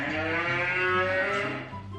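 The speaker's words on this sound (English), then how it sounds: "Cow. Okay, that was easy." Cattle mooing played for a sound-guessing game: one sustained, loud bovine call lasting about two seconds, clear and near, fading slightly at the end with no voices over it.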